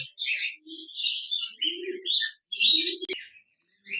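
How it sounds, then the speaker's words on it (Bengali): A pair of lutino red-eye budgerigars giving close, busy bursts of high chirps and warbles in quick succession, with short pauses and no talk. "এখানে দেখতে পাচ্ছেন একজোড়া লটিনো রেড আই বাজেগার পাখি রয়েছে"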